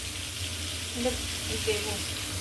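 Soybean chunks frying in a pan in an ashram kitchen give a steady, close sizzle throughout, with faint background voices and occasional clinks.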